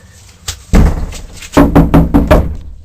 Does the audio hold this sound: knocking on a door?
yes